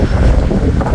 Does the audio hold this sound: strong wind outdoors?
yes